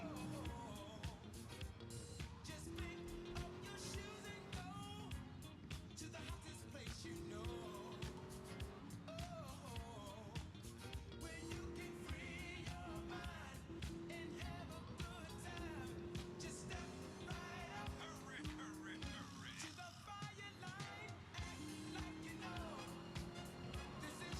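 A car in GTA Vice City drives with its engine revving in repeated rising pitch sweeps as it shifts, faint and continuous, with people talking over it.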